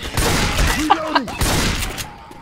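Rapid gunfire and impacts from the video game Left 4 Dead 2 as a teammate is shot, loud and dense, with a voice crying out over the shooting.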